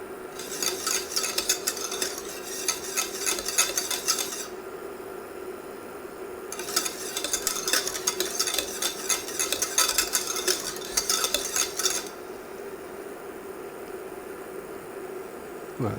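Exotic fruit confit stirred in a pot as it comes to a boil, scraping and rasping bursts of the spoon against the pan alternating with quieter bubbling gaps, steady and close.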